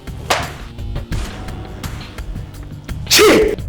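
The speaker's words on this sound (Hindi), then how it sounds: "ये वही छींक है जज साहब" A man's sneeze in a Hindi courtroom drama, blamed on dust allergy; one sharp, loud burst near the end, over earlier faint clicks and low room noise.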